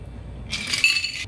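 A Cosmopolitan is poured from a cocktail shaker into a glass after shaking with ice, giving a brief bright glassy trickle and clink that starts abruptly halfway through and runs steadily to the end.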